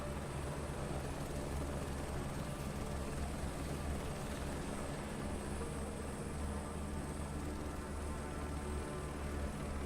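Helicopter in Microsoft Flight Simulator 2024, a steady rotor whine and droning engine hum with a constant high tone, unbroken and evenly loud throughout.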